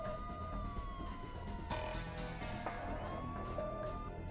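A police siren in the video game Max Payne 2 wails and sweeps up and down at moderate distance, rising and falling over a low background rumble.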